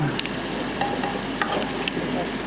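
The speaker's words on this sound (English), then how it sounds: "we can probably turn our bacon if our sausages are ready too" Bacon and sausages fry in a pan at a school breakfast cooking lesson, a steady broadband sizzle with a few light scrapes and clicks on top, fairly close and continuous, with no one speaking.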